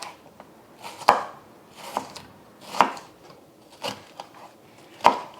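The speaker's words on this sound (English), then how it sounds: "I'm gonna cut them up to about the same size as the onions." A knife chops through food on a cutting board, cutting it into little strips: about six sharp, evenly spaced thuds at close range over a soft background hiss, with no talking.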